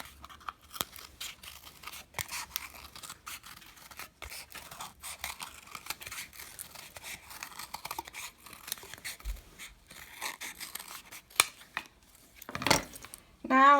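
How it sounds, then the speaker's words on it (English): Scissors cutting out a cardboard circle for a kumihimo bracelet disk, a long series of irregular crisp snips and crunchy clicks, close up, with small handling rustles and no talking. "get my scissors to cut this out."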